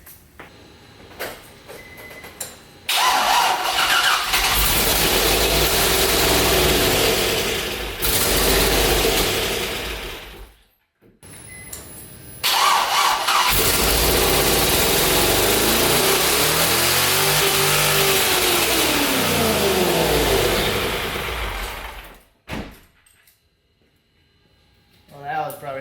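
Nissan 350Z with a swapped LS engine cranking, starting and revving hard in two long loud bursts, the second climbing high before cutting off, with mechanical clatter and brief pauses between.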